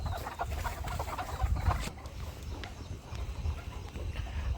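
Hens cluck softly near a rooster in a poultry setting, a scattered run of short clucks and scratchy movement sounds over a low background rumble, fairly close and moderate in level.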